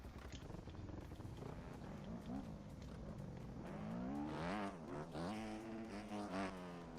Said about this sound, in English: You could hear like the tires screech.